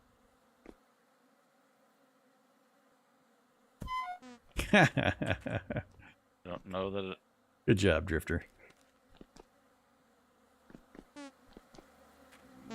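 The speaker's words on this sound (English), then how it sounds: "Every time you hear the beep noise, that's the bees stinging him." Bees stinging a player character in the survival video game Vintage Story, heard as short electronic beeping bursts clustered in the middle, loud against a quiet background with brief talk around them.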